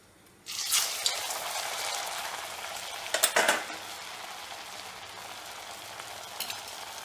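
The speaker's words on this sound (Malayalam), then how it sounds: "ചെമ്പച്ചട്ടിയിൽ എണ്ണ അടുപ്പത്ത് വെച്ച് ചൂടായി കൊണ്ടപ്പോൾ അത് കത്തിനെടുത്തിട്ട് ചുറ്റെടുക്കണം" Ennappathiri, a soft thick flatbread, frying in hot oil in a pan on the stove: a steady loud sizzle starts after half a second and holds throughout, with a brief burst of bubbling crackle midway.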